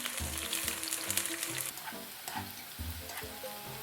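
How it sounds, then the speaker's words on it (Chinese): Scallion slices fry in hot oil in a wok with a steady, close sizzle and bubbling crackle, and occasional stirring knocks sound throughout. "锅内倒油，油热之后放入葱片炸至"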